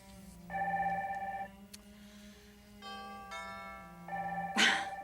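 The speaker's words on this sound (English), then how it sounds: "You get the phone, I'll get the door." A telephone rings indoors in a TV drama scene, several bursts of an electronic two-tone ring separated by short pauses, fairly quiet and with no one speaking.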